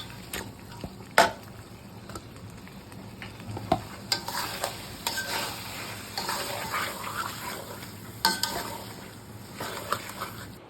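Chicken meat is stirred into sautéed ground spice paste for a chicken bhuna, with a continuous sizzle broken by repeated sharp clacks and scrapes of a spatula against the pan.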